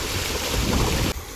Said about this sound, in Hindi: हवा चल रही इतनी तेज।